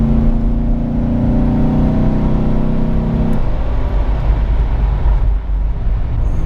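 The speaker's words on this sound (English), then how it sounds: "Watch how easy this LT1 will pass on the highway. This is just a slight amount of throttle," A Jeep Wrangler JK fitted with an LT1 V8 engine accelerating on the highway, a loud steady engine hum with a strong tone that drops away midway, followed by road rumble.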